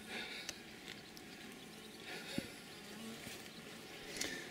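Bees buzz steadily around a beehive kept at a cathedral, a soft continuous hum with a few louder passes as individual bees fly close by.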